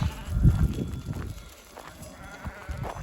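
Sheep and growing lambs bleat on a farm, a few low calls clustered near the start and scattered through the rest, fairly close amid general barnyard noise.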